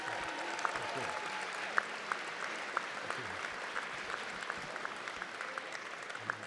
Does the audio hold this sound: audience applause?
yes